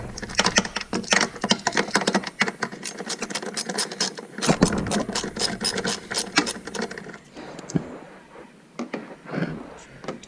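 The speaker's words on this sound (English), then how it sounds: "I said to take that little nut off." A hand ratchet clicks rapidly and repeatedly while taking a small nut off a Ford Mustang, with bursts of close, sharp ratcheting that pause and resume with brief clanks.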